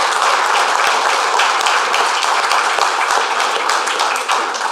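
Audience applause at the Intra-African Trade Fair 2023, loud, dense and sustained clapping filling the whole stretch with sharp individual claps standing out, no speech over it.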